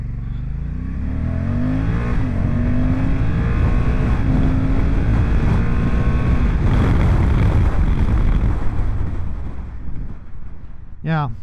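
A Honda NT1100 touring motorcycle accelerates hard from a stop to about 80 mph, its engine rising through several gear changes under heavy wind roar, then fading as it brakes back down to a stop.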